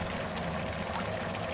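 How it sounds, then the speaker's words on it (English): Starch water poured into mapo tofu in a pan, giving a steady, close hiss and trickle that runs unbroken for a moment with no voices. "Add starch water in 3 batches"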